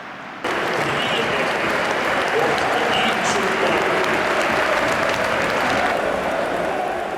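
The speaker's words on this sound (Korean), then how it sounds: "한국에서 온 축구 선수에게 기립박수를 보내는 아인트호벤의 관중들." Stadium crowd at a PSV Eindhoven football match gives a standing ovation to a departing Korean player, a dense, loud, continuous roar of applause that starts abruptly and holds steady throughout.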